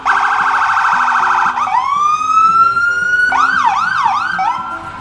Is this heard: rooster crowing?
no